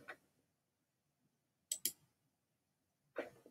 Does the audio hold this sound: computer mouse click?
yes